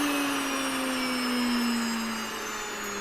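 An electric wheat grinder motor grinds wheat berries with a loud, steady whining drone like a vacuum cleaner, its pitch sinking slightly as it runs alone.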